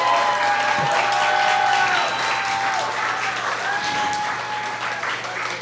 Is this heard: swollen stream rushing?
no